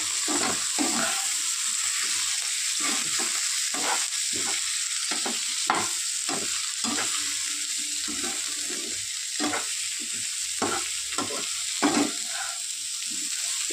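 Potatoes with turmeric, cumin, coriander and chili powders stir-fried in a pan, a continuous sizzle broken by repeated rhythmic scraping and stirring strokes, close up and without voices.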